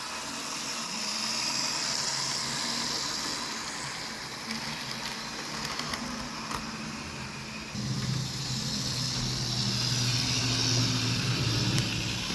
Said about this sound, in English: It's loud because it's a Lima loco